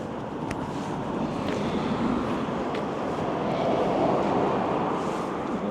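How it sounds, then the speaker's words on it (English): Steady wind buffeting a microphone outdoors on a street in Belgrade, Montana, a continuous broad roar with no talk, constant in strength throughout. "A little windy here"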